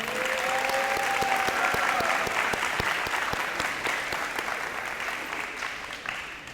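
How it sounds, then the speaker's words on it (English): A school crowd at a morning letter-of-intent signing event gives sustained, steady applause with sharp individual claps standing out, tapering slightly toward the end. "how about a round of applause for these two young men?"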